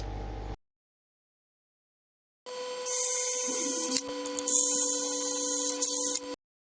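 A drill bores out 3mm rivets on the metal cover of a medical isolation transformer. After a short quiet gap comes one sustained close whine lasting about four seconds, with a brief dip partway through, then it stops abruptly.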